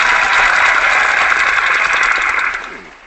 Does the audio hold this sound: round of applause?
yes